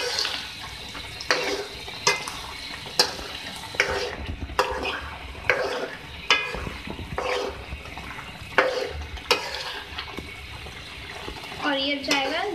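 Saag of spinach, bathua and methi greens with potatoes frying in a pan and stirred with a spoon, repeated close scraping strokes about every second over a soft sizzle, with a voice briefly at the end.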